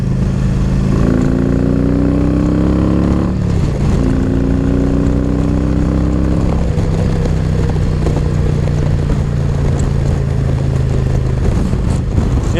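A loud Harley motorcycle engine idles and revs up, pitch climbing in a couple of throttle bursts before settling into a steady, throaty rumble.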